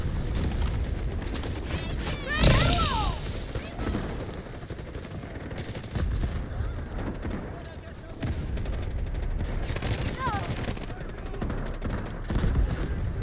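An MP7 with a 60-round magazine fires in a video game: rapid bursts of gunfire, loud and close, come in separate volleys over continuous background game noise while someone talks.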